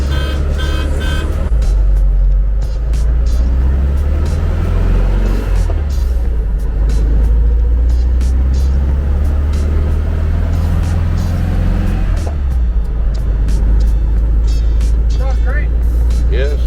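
A 1974 VW Thing on the road, a loud low engine drone rising and falling through gear changes as it drives, with wind and road rumble and people talking over it.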